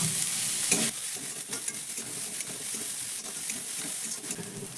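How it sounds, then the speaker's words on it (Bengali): Ginger, green chili, chopped capsicum and grated carrot stir-fried in a pan, a continuous close sizzle with scraping stir strokes throughout, no voices. "আদা আর কাঁচা লঙ্কাটা একটু ভাজা ভাজা হয়ে যেতে তারপরেই দিয়ে দিচ্ছি অল্প একটু পরিমাণ ক্যাপসিকাম কুচি"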